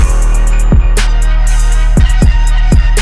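A full, polished drum beat with booming kicks and crisp snares and hi-hats over a tonal backing, loud and steady, with no talking.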